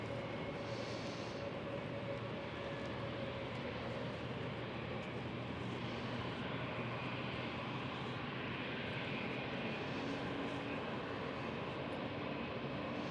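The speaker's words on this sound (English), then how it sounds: "And we do have another arrival on runway 27. It's Iceland Air" An Icelandair Boeing 737 MAX landing on runway 27 at Schiphol airport, heard as a steady, broad jet roar with a constant low rumble that holds at the same level for the whole stretch, somewhat distant and without talk.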